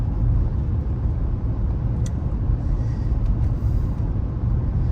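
A car drives on a road toward Mammoth, its steady low rumble of engine and tires filling the interior continuously, with no voices.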